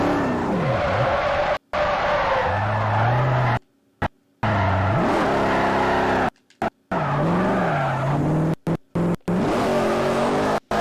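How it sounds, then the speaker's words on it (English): A 1997 McLaren drift car in the Forza Motorsport racing game skids with screeching tires and a revving engine, loud sweeping squeals rising and falling, broken by several abrupt silent cuts. "Great drift car."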